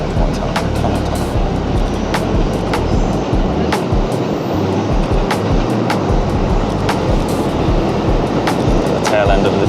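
A train rumbles past at close range, its tail end going by with a steady, loud broadband roar and repeated clacks from the wheels over rail joints, heard near a tunnel at a Japanese photography spot.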